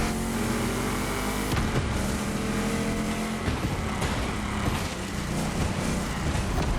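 A DeLorean monster truck's engine revving loudly at a race launch in the Motorfest video game, a dense, continuous roar with shifting pitch as the vehicle accelerates among other racing engines.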